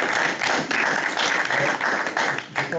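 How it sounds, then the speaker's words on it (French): Steady applause from a small group, dense clapping continuing throughout with a few louder taps, no voices on top. "je pense que Sylvain applaudit principalement parce que j'ai respecté le timing"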